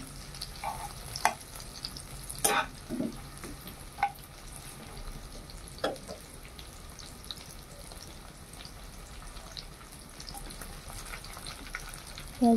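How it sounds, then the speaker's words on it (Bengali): Spice paste for a Bengali rupchanda fish curry fries in a pan: a soft, continuous sizzle broken by scraping stirs and occasional louder clatters, with no talking. "মশলাটা ভেজে নিচ্ছি ভালো করে"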